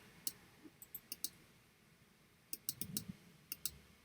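Computer mouse button clicked in quick pairs, crisp close double clicks repeated in several bursts over a faint room hum, alone without any voice.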